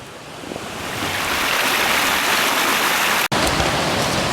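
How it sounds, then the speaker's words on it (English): A pot bubbles over an outdoor wood fire in Jamaican bush cooking, producing a dense, steady fizzing hiss that swells after a softer start and holds loud, broken by one brief dropout. "Pot a bubble and cause no trouble."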